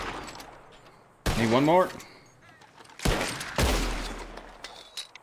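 Gunfire in the Western video game Red Dead Redemption 2 during a Blackwater shootout: a few sharp, loud bursts of shots spread across the moment, mixed with a short spoken line.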